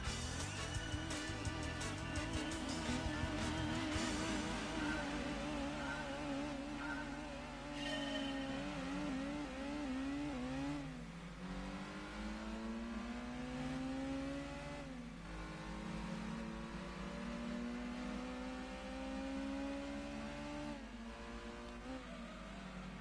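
Race car engines in Gran Turismo 2 during a German National Championships race, several cars revving and shifting up through the gears in repeated rising whines, loud and continuous with no talk.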